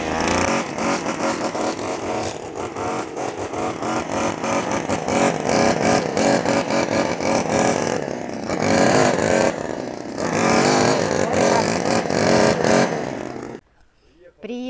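A GPT TBC-522 petrol string trimmer cutting weeds and tall brush on a garden plot, its two-stroke engine buzzing loud and close for most of the time before cutting out near the end.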